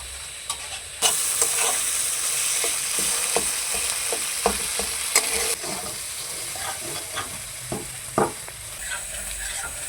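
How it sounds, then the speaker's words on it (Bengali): Spices and tomato fry and are stirred in a pan for a paneer curry made with raw papaya, a steady loud sizzle broken by repeated scraping clicks of a spatula against the metal, with no talk. "টমেটো সহকারে মশলাটাকে ভালোভাবে কষিয়ে নেব।"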